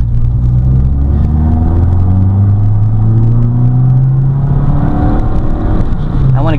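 A FIAT 500 Abarth engine drones steadily from inside the car as it drives, pitch climbing through the gears with a shift near the end, loud and continuous.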